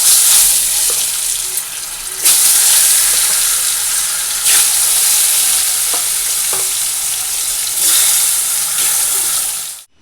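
Vegetable curry being put on to cook gives off a loud, steady frying sizzle and hiss that runs unbroken for about ten seconds, with a few light clatters of utensils and no talk.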